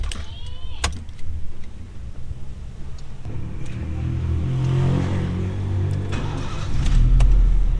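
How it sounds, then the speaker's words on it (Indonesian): An automatic car with a delayed-engagement fault starts up: a few clicks and a brief whine, then the engine catches and settles into a low, steady idle that swells louder near the end, close by with no voices. "sekarang kita nyalakan dulu mesinnya ya."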